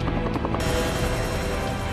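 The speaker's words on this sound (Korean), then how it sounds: "코브라 헬기와 함께 조종사들은 지상보다 익숙한 삶의 터전 상공을 향한다." An AH-1 Cobra attack helicopter flies overhead, its rotor producing a steady rhythmic chopping thump over a dense engine and turbine roar that swells louder partway through and stays close and continuous.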